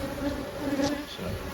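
Honeybees buzzing steadily at a hive that has found a nectar source, a close, continuous droning hum with no speech over it.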